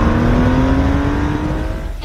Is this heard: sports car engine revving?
yes